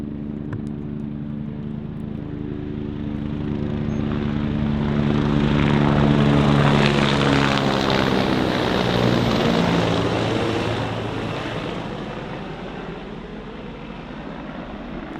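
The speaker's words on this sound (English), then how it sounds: "it sounds like they're circling" A helicopter circling over the Adirondack High Peaks, its rotor chop swelling as it passes overhead, growing louder in the middle and fading again, with no talking.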